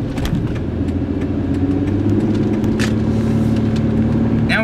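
A Ford Explorer with newly reworked suspension rolls along the road, its engine droning steadily with road rumble and a rising tone, punctuated by light clicks and rattles from inside the cabin.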